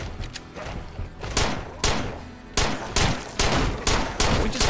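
Gunfire in the State of Decay video game, a string of sharp, loud shots in irregular bursts, some pairs and clusters with short gaps between, close and punchy.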